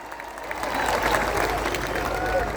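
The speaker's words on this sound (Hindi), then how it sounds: "ताली बजाओ" Audience applause at a Hindi comedy poetry gathering (hasya kavi sammelan) in Rajnandgaon, a dense, steady wash of clapping from a large crowd that swells in after a brief quiet start and holds loud throughout.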